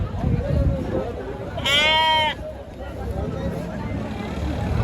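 A lamb at the Kerur sheep market gives one clear, wavering bleat, loud and close, against a steady market hubbub with people talking nearby.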